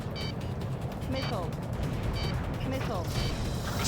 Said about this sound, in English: I'm hearing nothing but shooting all around.